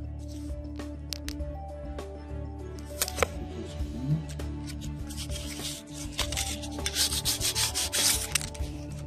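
Sandpaper of 120 and 1000 grit rubs steadily over a Nikon D3 camera body during a repaint and restoration, a close, continuous scratchy scraping with irregular strokes and a few sharp clicks, with no speech.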